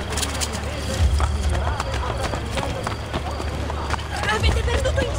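Horse hooves in the video game Assassin's Creed Brotherhood, a rapid clip-clop of a running horse under a steady bed of game ambience and crowd babble, with heavier low thumps near the start and end.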